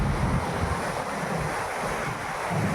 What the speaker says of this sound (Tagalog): Maingay ang dagat.